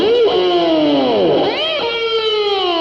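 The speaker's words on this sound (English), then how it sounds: "Some other tricks you can get with that same dive bomb idea would be something like" Electric guitar with a vibrato bar does dive bombs and whammy tricks, with pitch swooping down and then bending back up in wavering glides over sustained distorted notes, loud and close.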